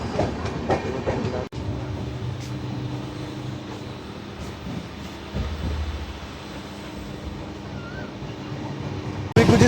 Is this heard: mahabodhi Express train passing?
yes